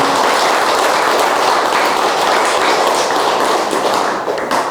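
Dense, loud clapping from a temple audience during a dharma talk, many hands beating in a continuous wash that holds steady before thinning slightly at the end.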